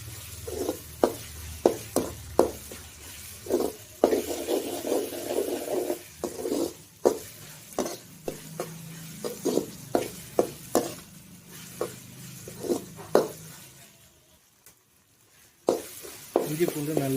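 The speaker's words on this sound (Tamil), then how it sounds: "இதை வதக்கிட்டு இஞ்சி பூண்டு பேஸ்ட், இது பச்சை வாசனை போகிற வரையும் நல்லா வதக்கிட்டோம்" Ginger garlic paste sautés in a pan for Chennai-style chicken gravy, a steady sizzle broken by repeated scraping strokes of a spatula in an uneven rhythm, close and fairly quiet, with a brief near-silent pause toward the end.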